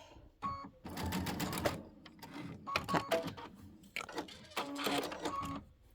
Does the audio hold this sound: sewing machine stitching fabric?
yes